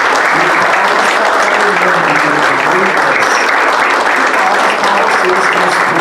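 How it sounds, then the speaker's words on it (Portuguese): An audience applauds steadily at a book launch evening, dense clapping from many hands filling the room at an even level for the whole stretch. "Palmas para o Instituto Unimed."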